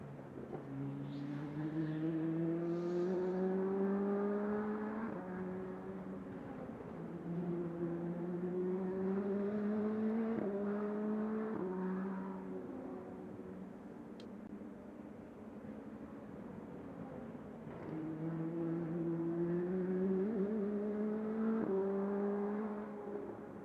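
Race cars lap Road America during qualifying, their engines whining through rising gear changes and repeated upshifts, passing at moderate distance with a steady, sustained drone and no talking.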